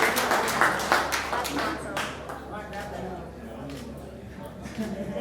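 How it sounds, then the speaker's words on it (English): Audience at a fighting-championship weigh-in in Lewiston clapping for two heavyweight fighters, a steady patter of hands under a loud announcer's voice and crowd chatter. "How about a round of applause for Billy Leahy and Ryan Glover, first ever NEF Amateur Heavyweight Champion"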